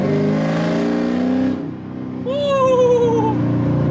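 A C7 Corvette fitted with headers, an X-pipe exhaust and a tune revs loudly up close, a droning engine note that dips then climbs into a rising, whining rev.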